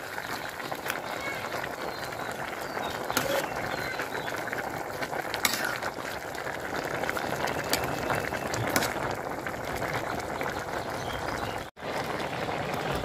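Shol fish going into a pan with cauliflower, a steady loud sizzle and bubbling of cooking that runs throughout, close and even.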